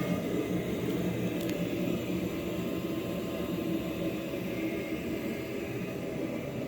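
A house furnace runs with a steady, even whooshing rumble that stays constant throughout, with no talking.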